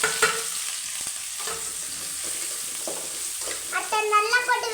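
Onions and curry leaves frying in a pan after mustard seeds have popped, a bright, steady hiss of hot oil with a few stirring clatters, close and continuous, a voice briefly audible near the end.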